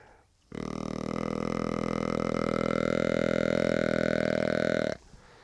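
A single long, steady, droning breeding grunt from a deer call, imitating a mature buck, held for over four seconds at close range and loud throughout.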